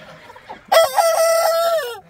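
A handsome rooster crows loudly and close in a backyard coop, one long sustained cock-a-doodle-doo with hens clucking faintly before it.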